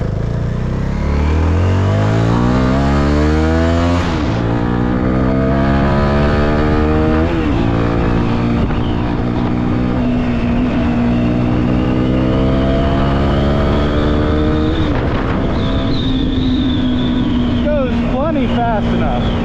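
A CFMOTO motorcycle engine runs throughout a ride, rising and falling through gears in steady pulls, with wind noise and someone talking over it for much of the time.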